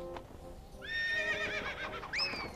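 Horse in the Lego Island 2 video game gives two shrill, wavering whinnies with faint hoofbeats underneath, the second neigh rising sharply near the end; moderately quiet and heard without talk.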